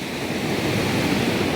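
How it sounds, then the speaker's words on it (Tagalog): Ocean waves break and wash continuously on a beach, a loud, close, steady roar of surf with wind noise and no voices. "So lalaka ng alon no guys."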